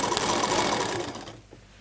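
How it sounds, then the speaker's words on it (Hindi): A sewing machine runs close by in a fast, steady whir as it stitches over a pocket seam on palazzo pants, then stops abruptly near the end. "जो हमारी पॉकेट की सिलाई आई थी हम उसी पर सिलाई मारेंगे बिल्कुल"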